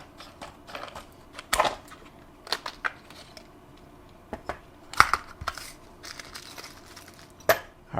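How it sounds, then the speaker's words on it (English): Scissors snipping and crinkling through the plastic packaging of a SABR saw replacement blade, with a few sharp cuts and scattered rustling crackles up close, no talking. "we're going to go ahead and open up our replacement blade package"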